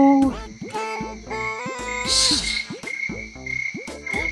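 A frog croaks very close by in a rapid series of loud, throaty calls, with short gaps between bursts and a faint higher chirp mixed in.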